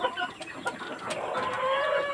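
Sonali chickens on a small layer farm with a bamboo coop cluck and squawk nearby, overlapping calls rising to a sustained drawn-out cry near the end.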